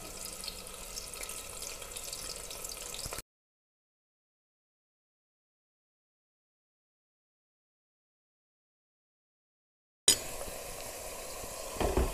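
A kilo of thinly sliced onions fries gently in oil for mutton do pyaza, a soft continuous sizzle at the start and end with a long stretch of silence between.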